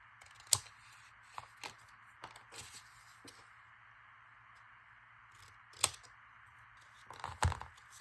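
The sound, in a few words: cutting cardboard, likely with scissors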